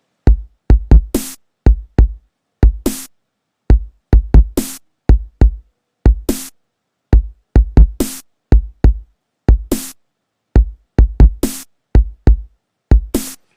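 A dubstep drum beat programmed in Logic Pro 9, a punchy kick and snare pattern looping steadily and loudly, with sharp bright hits repeating in a regular rhythm and no voices.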